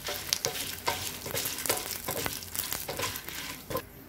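Green chillies sautéed in a hot pan for a spicy South Indian chutney, the close sizzle broken by repeated quick scraping strokes of a spoon as the chillies are stirred and tossed.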